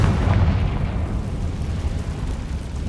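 Confringo blasting spell detonating in Hogwarts Legacy, a deep rumbling explosion with a heavy low boom that rolls and decays over a few seconds.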